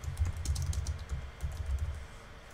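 Fast clatter of keys on a computer keyboard, close and steady with irregular bursts over a low hum, no voices.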